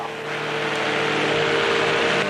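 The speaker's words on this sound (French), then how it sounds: "c'est le bruit du moteur que j'ai dans mon dos" Ultralight aircraft engine droning in flight over the razor-sharp Tsingy rock formations of Madagascar, a loud, steady, close buzzing hum with no talk.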